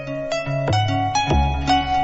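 A 1990 instrumental, a bright, layered synth piece with steady tonal lines and recurring percussive accents, playing continuously at moderate loudness with no talk.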